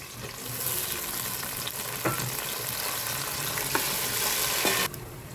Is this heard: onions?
yes